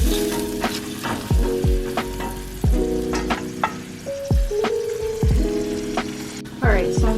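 Canned corn roasts in a pan, crackling and sizzling loudly up close, with frequent sharp pops, scrapes and metallic clanks as it is tossed and stirred.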